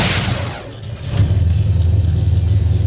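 A 1965 Chevelle SS V8 with Holley Terminator EFI starts and settles into a loud, steady close-up idle, its deep rhythmic rumble pulsing evenly with no talk over it.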